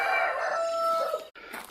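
A backyard chicken crows in a drawn-out call with a faint cluck under it, heard alone and fairly close, ending abruptly before a short tail of ambient noise.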